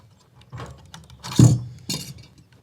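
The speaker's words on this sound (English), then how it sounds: "I'm just going to undo that one wing nut," A wing nut on a Paperpot transplanter is loosened, with a few close metallic clicks and ratcheting scrapes in quick succession, no voices.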